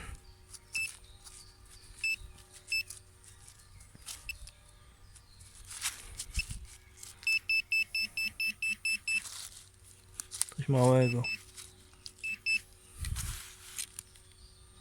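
A metal detector sounds quiet, short electronic beeps in a quick run while someone searches outdoors, with scattered rustling and handling noises around it.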